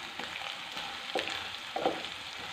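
Onion, green chili and curry leaves fry in hot oil for rava upma, a soft continuous sizzle with a few light scrapes of stirring, close and quiet.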